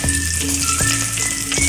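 Mustard seeds crackle and sizzle in hot oil in a pan, tempering for rava dhokla. The frying noise is steady and close, with small pops, and no one speaks.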